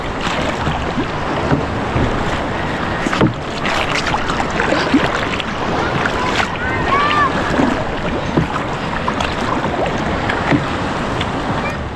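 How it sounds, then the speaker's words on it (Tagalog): A small boat moving fast and turning on the sea, with steady rushing water, hull slap and wind buffeting the microphone throughout, and people talking over the noise. "Maganda at mabilis lumiko itong bangka na to."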